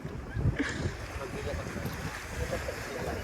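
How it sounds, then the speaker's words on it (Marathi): Sea waves wash around a fishing boat out on the sea, a rough rushing surge mixed with heavy wind buffeting the microphone, near and fairly loud. "समुद्राच्या लाटा"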